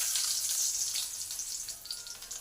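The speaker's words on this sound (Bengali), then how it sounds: "এবার রসুন কুচিটা দিয়ে দেবো।" Chopped garlic hits hot oil with cumin seeds already fried in the pan for Bengali kolmi shak, giving a loud bright sizzle that flares at once and then settles into a steady, slightly softer crackle.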